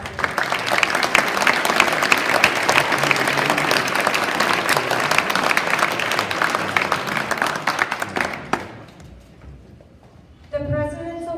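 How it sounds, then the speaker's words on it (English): A crowd at an 8th grade graduation ceremony breaks into sustained, loud applause that fades out near the end, followed by a voice starting to speak. "A round of applause."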